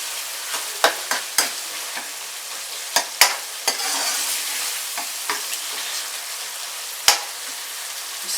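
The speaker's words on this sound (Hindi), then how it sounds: "अब मैं इसमें पानी डालूंगी।" Water goes into fried masala in a pot for chicken kofta curry, raising a hissing sizzle mixed with scattered clinks and scrapes of stirring, close up with no talk.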